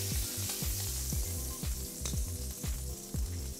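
Duck breasts frying in a pan give a steady, close hiss of sizzling fat that runs throughout, sitting under rhythmic background music.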